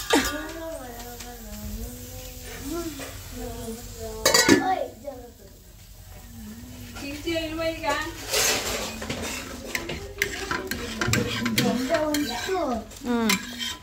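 Plates and cutlery clink and clatter intermittently while food such as dosa and chutney is served to a family at home, with speech and pitched voices running over the dishware noise throughout.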